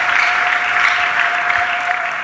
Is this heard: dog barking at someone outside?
no